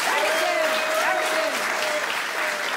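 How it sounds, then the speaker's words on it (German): Studio audience of a German comedy talk show applauding a guest, dense loud clapping with some cheering, a voice briefly audible over it. "Ich würde mal sagen, Applaus für Sarah Hakenberg"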